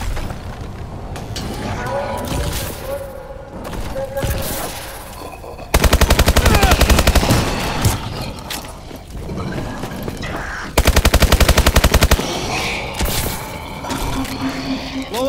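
Bursts of rapid machine gun fire in the Call of Duty Exo Zombies video game, two loud sustained volleys of several seconds each, set among quieter game sounds and voice chatter.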